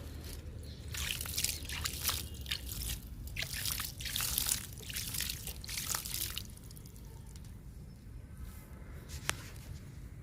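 Liquid fertilizer poured straight from a container onto the soil of small potted flowering plants, a steady close trickle and splash with some dripping, alone without talk.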